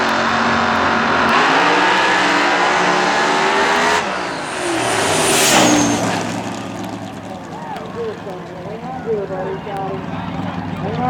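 A top fuel dragster races down a drag strip, its loud engine roar rising and sweeping past, heard under an excited announcer talking over the noise.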